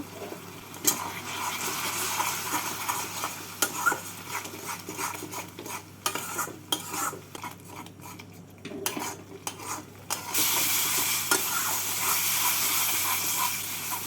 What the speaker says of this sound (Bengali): এবার মশলাটাকে ভালো করে কষিয়ে নেব